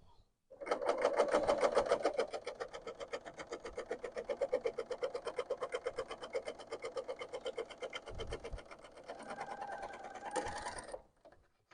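BERNINA L890 serger-style machine sewing a flatlock stitch, a fast, even mechanical chatter running steadily close by for about ten seconds, shifting pitch slightly near the end before stopping.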